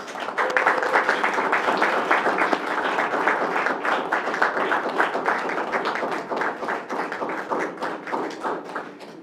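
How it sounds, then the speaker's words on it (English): A school board meeting audience applauds Columbus City Schools staff who stand to be recognized: sustained, fairly close clapping from a mid-sized room, loud at first and slowly thinning toward the end. "can you please stand so that the Board of Education can recognize you with a round of applause?"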